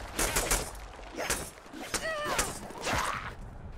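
Enemy gunfire in a Deadpool video game, scattered bursts of shots mixed with whooshes, whistling effects and other combat noise at moderate loudness.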